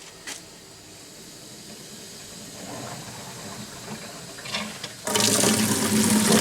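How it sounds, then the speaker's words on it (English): Cold water rushes through the heat exchanger of a tankless water heater during a flush, with the service valve off. A low, steady hiss swells into a loud, broad gush of flowing water near the end. "now I'm just going to flush the heat exchanger out"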